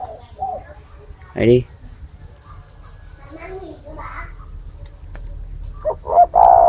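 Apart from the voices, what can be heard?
cu dove cooing while perched on a hand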